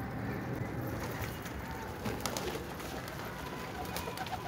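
Pigeons coo softly and steadily, their low calls mixed with faint background noise.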